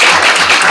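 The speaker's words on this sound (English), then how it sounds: "I want to give them all a round of applause for coming here" A brief, loud and dense burst of applause fills a candidate forum for school committee and town council hopefuls, with many hands clapping together.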